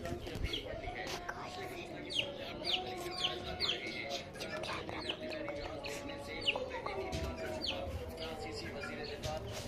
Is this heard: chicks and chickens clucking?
yes